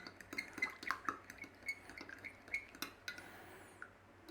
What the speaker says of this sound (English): Good old stir around.